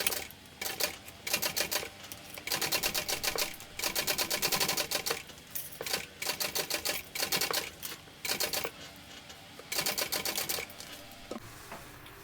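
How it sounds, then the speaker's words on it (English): A sewing machine topstitches a crossbody bag in quick, rhythmic bursts of rapid mechanical clatter, stopping and starting several times, close and fairly loud. "And we're going to top stitch."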